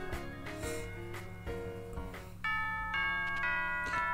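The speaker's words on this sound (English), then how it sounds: "Oh, that's the school bell." A school bell chime rings out in the video game Pokemon Ultra Sun, a bright synthesized melody of sustained tones stepping through several notes over about four seconds, with no talking.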